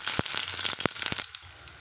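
Shallots and curry leaves sizzle in hot oil while a spoon stirs them, a few sharp close scraping strokes over a bright hiss that drops quieter near the end.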